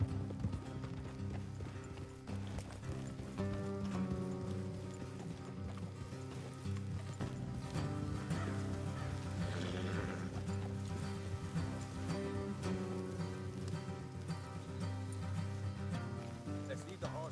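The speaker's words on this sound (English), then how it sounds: "Let's leave the horses here and go the rest on foot." Horses' hooves clip-clop at a steady pace in Red Dead Redemption 2, with continuous rhythmic hoofbeats and tack jingle over a droning musical score.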